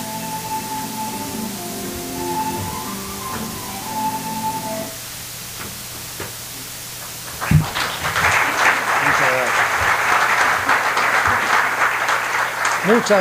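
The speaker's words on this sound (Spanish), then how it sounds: "Muchas gracias por vuestros aplausos." A seated audience breaks into applause after a formal speech, the clapping rising abruptly after a quieter spoken stretch and then holding loud and steady to the end.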